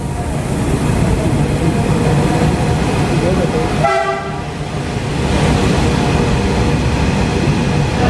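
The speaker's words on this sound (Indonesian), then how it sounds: "gerbong kereta KRL relasi Cikarang dan kereta jauh kembali beroperasi normal" A KRL commuter train on the Cikarang line rolls past steadily and loudly, its horn sounding briefly in the middle while the rumble of the carriages continues throughout.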